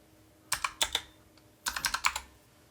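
Typing on a computer keyboard while entering router configuration commands: two quick bursts of crisp clicking keystrokes separated by a short pause, close and fairly clear over a quiet background.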